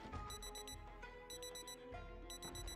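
A wristwatch alarm in Project Zomboid beeps in repeated rapid bursts of four high tones, steady and insistent over game background sound, with no voices.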